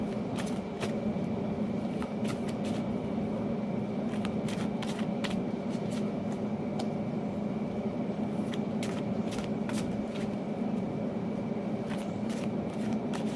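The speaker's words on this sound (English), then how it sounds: "I'm going to keep shuffling." A deck of oracle cards is shuffled continuously, close up, with a soft steady riffle broken by sharp little snaps and flicks of the cards.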